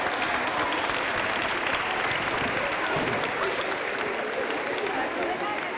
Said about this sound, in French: On peut les applaudir, ils sont 4e.